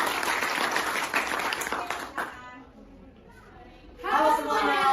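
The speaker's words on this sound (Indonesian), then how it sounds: "Tepuk tangan dulu." Classmates applaud a student group before its presentation, with a couple of seconds of lively clapping that fades to near quiet before a voice begins speaking.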